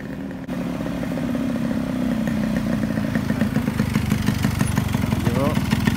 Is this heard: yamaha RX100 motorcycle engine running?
yes